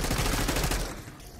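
Rapid gunfire in Call of Duty Black Ops 6, shooting at pool balls: a steady, loud burst of repeated shots lasting about a second, then fading away.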